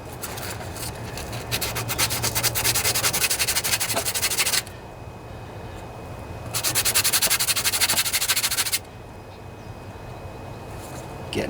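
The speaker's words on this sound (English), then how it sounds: "This is just a sanding sponge I'm using here." A sanding sponge scrubs a rusted, corroded battery cable end on a Craftsman 24 HP Briggs riding lawnmower, two close, loud bursts of rapid rasping strokes separated by a quieter pause, with no talking.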